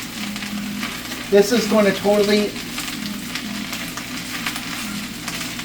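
Shredded cabbage frying down in a hot pan for lo mein, a steady wash of sizzle throughout with a brief stretch of talk early on.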